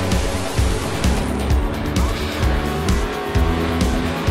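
Import and domestic drag race cars launch down the strip at full power, loud engine roar with rapid rhythmic pulses and tire noise filling the scene, close and sustained, with an announcer's voice faintly under it.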